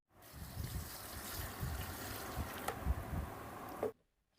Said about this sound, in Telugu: ఇప్పుడు ఒక నాలుగు లీటర్ల వాటర్ పోసుకుందాం